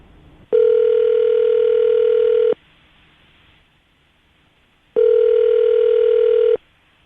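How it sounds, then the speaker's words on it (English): A telephone dial tone sounds in two long steady bursts separated by a few seconds of near silence, loud and close on a call line placed to a radio show guest. "we're going to call her right now, see if we can get her on the phone"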